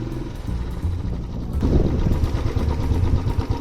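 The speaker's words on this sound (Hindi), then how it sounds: "मैं हाली डर के चलाई जा रहा बाइक।" Motorcycle ridden at night along a narrow single-lane road toward Rampur, a steady low engine drone that grows louder midway and keeps running without talk.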